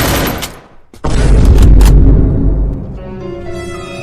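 Gunfire from the mobile game Free Fire bursts in loud and close, a sharp shot at the start, then a dense roaring volley of rapid shots that tapers off into ringing musical tones.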